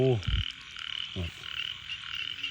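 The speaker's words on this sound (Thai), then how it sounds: "คุณผู้ชมครับ ฟังเสียงครับ เสียงเขียดเสียงตัวอะไรร้องเต็มไปหมดครับ" Small frogs croak at night after rain, a few close, loud, short croaks standing out over a dense, steady chorus of calling frogs and insects.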